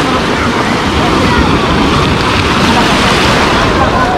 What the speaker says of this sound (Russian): Вот сейчас будет хорошая волна.